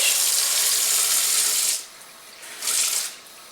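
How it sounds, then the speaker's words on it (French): Water runs steadily from a tap into a tub, a broad hiss that stops briefly, then gushes again for a moment before cutting off. "ce que je vais faire, c'est que je vais remplir mon bac"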